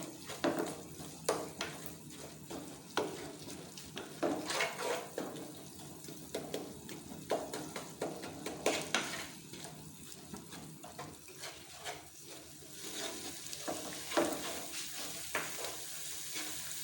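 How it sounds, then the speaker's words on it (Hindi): Spice masala fries in a pan while being stirred for dal, heard as a quiet, soft sizzle with repeated clattering and scraping knocks of a spoon at an irregular rhythm. "अब ये देखिए मसाला अच्छी तरह से भुन चुका है"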